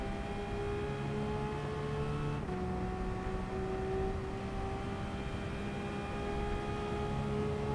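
A LaFerrari in Gran Turismo 7 streaks down the Nürburgring straight at full speed, its engine a steady high-pitched whine with a brief gear-change dip midway, loud and continuous throughout.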